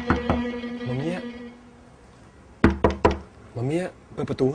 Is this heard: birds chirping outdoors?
no